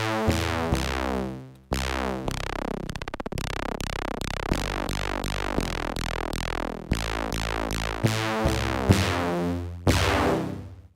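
A Digitone II synth patch with overdrive turned all the way up plays a rapid run of harsh, buzzing, distorted tones that sweep and change pitch in quick succession, loud and alone without any voice.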